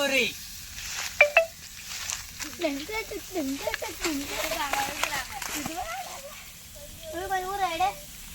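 Pomfret (vavval fish) sizzling in hot oil during outdoor village-style cooking, a steady crackling fry running under continuous talk with an occasional clink of a utensil.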